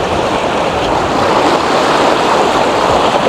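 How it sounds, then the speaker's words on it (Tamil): Steady broadband rush of fast-moving floodwater across a road, continuous and fairly loud, with a constant churning texture and no voices. "இங்கே பாருங்க எப்படி போகுது தண்ணி"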